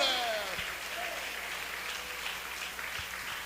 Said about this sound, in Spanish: ¿Quién tiene aplausos y alabanzas para Él?